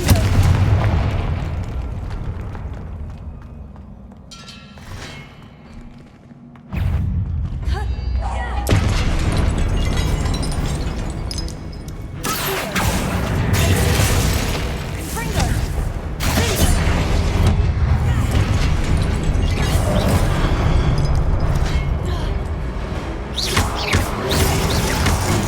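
Blasting-spell explosions in the wizarding game Hogwarts Legacy: after a quieter stretch, heavy booms and crashing bursts erupt and keep going amid loud in-game clamour and effects.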